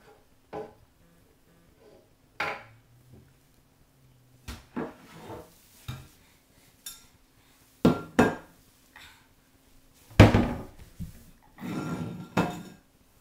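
Pie pans and other metal kitchenware clattering in a home kitchen cabinet, with scattered sharp knocks and rattles coming in separate bursts between quiet gaps, close and fairly loud.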